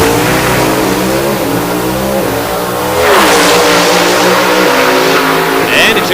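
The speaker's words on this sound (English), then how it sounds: "these gasoline-burning carbureted Pro Stockers" Gasoline-burning carbureted Pro Stock drag race cars accelerating, a loud continuous engine roar with rising and shifting harmonics, swelling louder halfway through.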